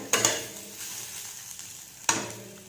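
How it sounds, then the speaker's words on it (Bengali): Beans and carrots stir-fried in a pan, two sharp scraping strokes of a spatula about two seconds apart over a faint, steady sizzle. "বিনস আর গাজর ভাজা"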